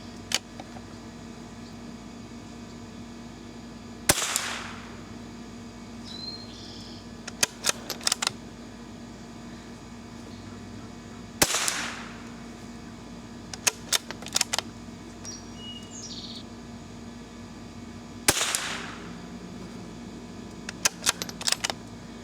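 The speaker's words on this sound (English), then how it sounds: "First one in line will be the Marlin XT22, and we'll be shooting at the target in the bottom left." A Marlin XT22 rifle fires three sharp, loud shots at a target, spaced several seconds apart, each followed by a quick cluster of metallic clicks from working the action, over a quiet background hum.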